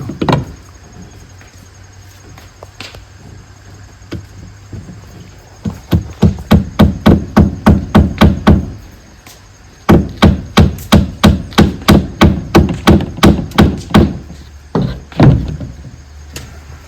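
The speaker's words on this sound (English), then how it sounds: "We're nailing them to the rafters." Hammering roofing nails into 2x6 boards on rafters outdoors, a run of sharp, loud, evenly spaced strikes in two bursts with a short pause between, then a few scattered final blows.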